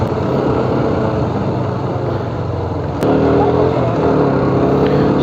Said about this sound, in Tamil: எக்ஸாஸ்ட் நோட் நல்லா இருக்குது இந்த வண்டி.